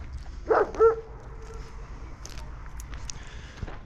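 A dog gives a couple of short barks close by, followed by quiet outdoor background along ancient city walls in Afghanistan.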